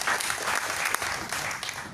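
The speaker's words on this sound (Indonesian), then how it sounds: "Kasih tepuk tangan buat Bung Adi Prasetyo." An audience at a Tangerang Selatan future-leaders discussion forum applauds Bung Adi Prasetyo, a millennial figure. It is a short, fairly faint wash of steady crowd clapping with no voice over it.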